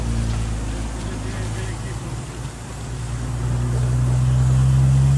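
A BMW 535 driving on the road, with a steady engine drone and road noise throughout that swells and rises in pitch toward the end as the car speeds up.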